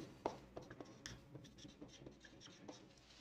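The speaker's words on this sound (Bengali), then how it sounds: "কিছু রুলস আমি লিখে দিচ্ছি।" Marker or chalk writing out organic chemistry naming rules on a board, a run of short taps and strokes at a steady pace, close and fairly quiet, with no talking.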